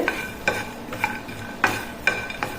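Peanuts (groundnuts) dry-roasting in a pan for laddu, a spoon or spatula scraping through them in several distinct strokes with a soft rustling rattle between, close and fairly clear, no talking.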